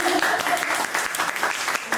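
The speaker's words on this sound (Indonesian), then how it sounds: "Kita berikan tepuk tangan dong." An audience at a youth stage event in Manado claps enthusiastically, a busy burst of applause with a few cheers and faint voices mixed in.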